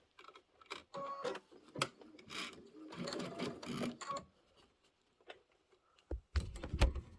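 A sewing machine top stitches a Kimberbell reindeer tote bag in short intermittent bursts of quiet whirring, with thumps and handling knocks in between.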